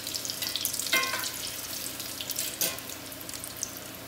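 Latkes shallow-frying in oil crackle and sizzle steadily in a pan, with two sharper bursts of spattering standing out from the constant frying hiss.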